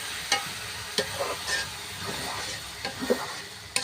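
Eggplant and potato sizzle steadily in a hot pan with onion and garlic for a lentil ghonto, broken by several sharp scrapes and knocks of a spoon stirring the vegetables, close and moderately loud with no talking.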